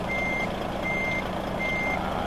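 Reversing beeps from a Cat CT660 truck in American Truck Simulator sound as three evenly spaced, sustained electronic tones over a steady low truck idle, clear and close.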